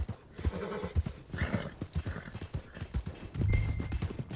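Horse hooves clip-clop steadily in Red Dead Redemption 2, with a horse whinnying partway through, against faint ambient game sound.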